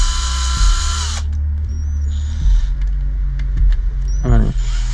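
Power drill driving bolts into a SurRon electric motorbike's jackshaft sprocket in a crisscross pattern, several short whirring bursts that rise and cut off, close and loud, with a person talking quietly in between.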